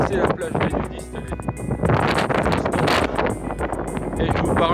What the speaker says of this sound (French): il y avait trop de vent et le vent s'est relevé